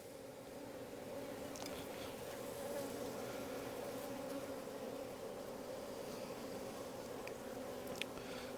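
Honey bees hum steadily around an opened beehive, a continuous low buzzing swarm close by, with a few faint clicks and rustles from the hive work.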